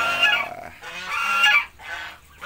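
Ducks and small ducklings at a backyard pen call in loud, overlapping honking and quacking bursts close by, with no talk, pausing briefly before another round.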